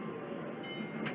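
A tourist mine train starts to roll at an amusement park ride, giving a steady rumbling and rattling of rail cars. The noise is continuous and moderately close, with no speech.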